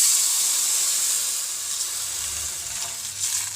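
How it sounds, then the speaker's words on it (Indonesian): Strained shrimp shell stock pours into a pan of cooked garlic, setting off a steady, close hiss of sizzling that eases slightly as the liquid settles, with no talking. "akan masukkan air kulit udang yang sudah ditapis"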